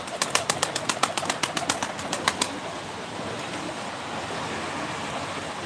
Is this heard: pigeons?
yes